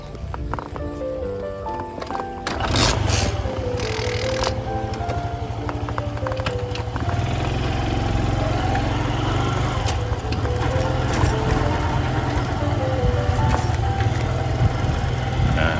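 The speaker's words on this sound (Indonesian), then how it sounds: "kita naik motor sekarang" A motorcycle rides along a village road, its engine a steady low drone with small shifts in pitch, accompanied by rattling and clattering and some scattered background sounds, continuous throughout.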